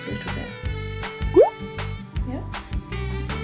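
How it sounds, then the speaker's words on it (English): Blue acrylic paint poured onto a canvas, giving a wet drip and plop, with a brief gliding liquid squelch near the middle, over soft background music. "just pour a little bit on here, just a little bit"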